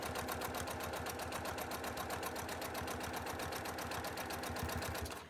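Sewing machine stitching at a steady fast pace, a close, even rapid clatter of needle strokes with a motor hum underneath, running continuously before stopping abruptly.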